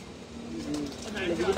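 Racing pigeons in a loft give a soft, close coo that rises toward the end of the brief moment, with faint background noise.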